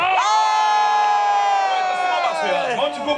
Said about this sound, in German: Capulet, jubelt ihr alle zu.